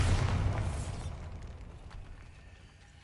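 A Bombarda spell blast in Hogwarts Legacy: one loud, booming burst with a heavy low thump that hits at once, then a crackling, debris-like rumble that slowly fades over a few seconds.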